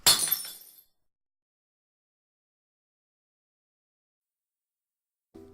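A single sharp crash of breaking glass, bright and close, fades quickly into silence, followed by a faint low sound at the end.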